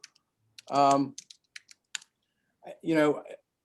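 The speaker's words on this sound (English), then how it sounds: "I'm going to type mine in the chat" Typing on a computer keyboard, a few scattered, quiet key clicks separated by pauses, with two longer tonal sounds in between.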